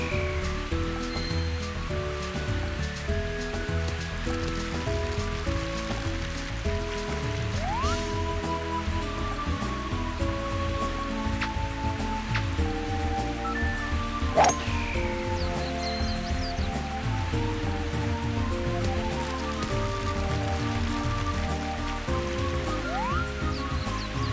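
Steady rain hiss runs through a round of the video game Mario Golf, a constant wash of falling water under layered, looping game music with occasional short sound effects.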